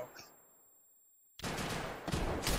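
Hip-fire gunshots in the video game Escape from Tarkov: a near-silent pause, then a sudden loud burst of rapid shots that keeps going to the end with little letup.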